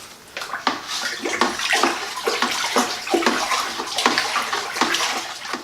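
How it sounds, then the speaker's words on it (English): Homebrewed chocolate coconut milk stout being stirred in its vessel, giving rhythmic sloshing and swirling liquid splashes, close and moderately loud, with repeated strokes every half second or so. "Nothing fancy, just stirring it up."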